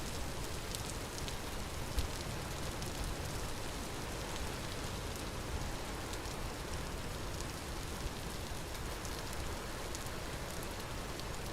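Steady rain falls in the survival video game Vintage Story, a constant hiss of drops on surfaces that holds at an even level throughout with no talking.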